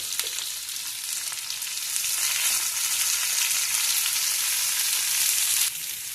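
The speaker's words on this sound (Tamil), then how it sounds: "வெங்காயம், போட்டு இதை நல்லா வதக்கிக்கலாம்" Onion sautés in a pan for a Tamil egg dish, a bright steady sizzle that swells louder midway and then drops off abruptly, with no speech over it.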